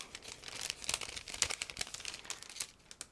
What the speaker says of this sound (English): Now I'm opening the clear plastic bag